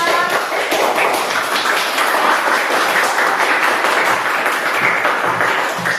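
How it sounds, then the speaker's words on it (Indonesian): A classroom of students gives a student group a steady round of applause, dense clapping sustained at an even level for the whole stretch, with no talk over it. "tepuk tangan untuk kelompok 2"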